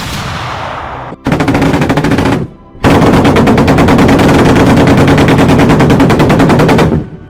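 German Gepard anti-aircraft gun firing its twin 35 mm cannons in long rapid bursts, a loud continuous rattling roar broken by a short pause, with no talk.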